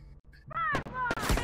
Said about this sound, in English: they're on the left side shooting at me